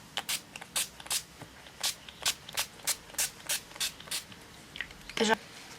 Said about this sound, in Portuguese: Spray de fixação da NYX no rosto.